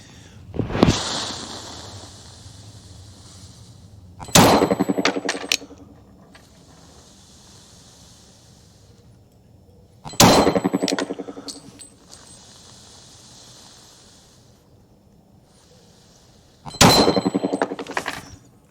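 Pistol shots at an outdoor range, with duty and practice ammunition fired from duty handguns such as a USP 40 compact. There are several loud, sharp reports spaced seconds apart, each followed by ringing echo and clinking.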